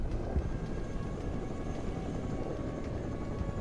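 Venom attack helicopter flying in the modern real-time strategy game Broken Arrow: a steady low rotor drone and engine whine, continuous and fairly faint, with no speech.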